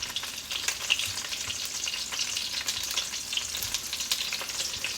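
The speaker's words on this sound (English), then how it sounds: "you've got to make sure the sausages are turned properly so they cook properly" Sausages frying in a pan give off a dense, continuous crackling sizzle with fine popping spatters throughout, close-up and steady, with no voices.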